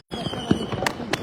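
Saturn missile firework launching in rapid succession, with sharp crackling bursts and whistling pops over a steady fizzing background, fairly close and loud, no voices.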